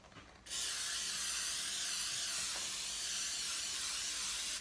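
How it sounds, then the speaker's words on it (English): After a brief pause, cooking spray hisses loudly and continuously onto a baking pan for several seconds, a close, steady aerosol spray with no talk. "spray it really well."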